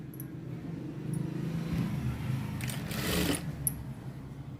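A sewing machine stitching the sleeve of a blouse, its motor running at a steady whir for the whole stretch with a slight swell in speed near the end, close and clear, with no talking.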